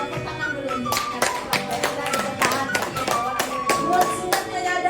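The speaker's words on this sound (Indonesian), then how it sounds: "Tepuk tangan dulu untuk Pak Herto." Clapping at a school gathering for a teacher, uneven sharp claps from a group with a tonal background and some voices under it.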